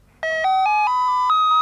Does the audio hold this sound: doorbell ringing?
yes